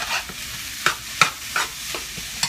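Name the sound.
stirring fried rice in a pot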